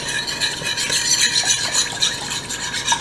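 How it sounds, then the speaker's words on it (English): Liquid being stirred into a strawberry torte glaze mix, a brisk, steady swishing and scraping of a utensil around a bowl, close and continuous. "stir it till there are no lumps"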